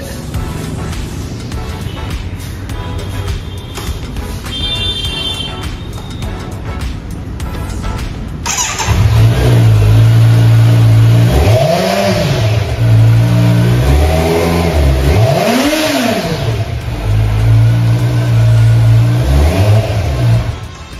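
A Kawasaki Z motorcycle engine idles at first, then roars up close with repeated loud throttle revs rising and falling over a steady rumble, with people talking faintly at the start.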